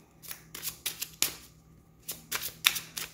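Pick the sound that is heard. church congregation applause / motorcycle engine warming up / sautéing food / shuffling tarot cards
shuffling tarot cards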